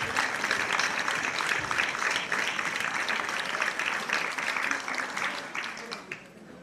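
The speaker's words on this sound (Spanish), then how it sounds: "¡Fuerte aplauso para ellos!" Audience at a Christmas gala applauding a theatre group, steady moderate clapping that holds evenly and thins out toward the end, with faint voices mixed in.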